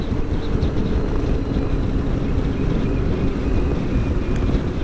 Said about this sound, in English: Still mighty windy today.